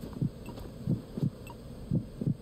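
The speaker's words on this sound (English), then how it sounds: "also the heartbeat kind of gives it away" Steady in-game heartbeat of a character in Metal Gear Solid 2, low muffled double thumps repeating about every second, close and clear over a faint hum, with no talking.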